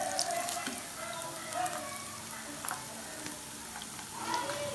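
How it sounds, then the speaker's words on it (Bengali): Chicken mayo bread balls deep-frying in oil over medium heat give off a steady, close sizzle with faint bubbling and occasional stirring, with no talk over it. "আমি হিটটাকে মিডিয়ামে রেখে গোল্ডেন ব্রাউন করে চিকেন বলগুলোকে ভেজে নেব।"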